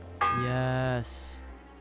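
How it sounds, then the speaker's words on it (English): A single tolling church bell rings in Kingdom Come Deliverance 2, a loud sustained tone with rich harmonics holding for about a second, then a brighter high chime that fades. "It's the 8th bell."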